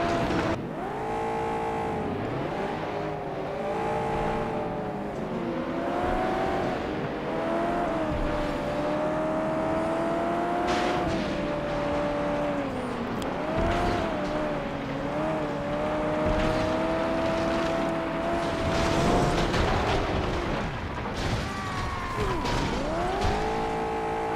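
Derby car engines in the PS2 racing game FlatOut 2, a forest demolition derby, roar continuously with rising and falling revs, layered with several other cars, tire squeals and occasional crash thumps, loud and steady throughout.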